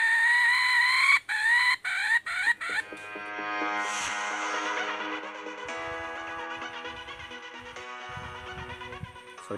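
A rooster crows near a forest chicken decoy trap, its strained call rising and breaking into choppy bursts, followed by a long ringing tonal sound with faint rustling in the background; no voices.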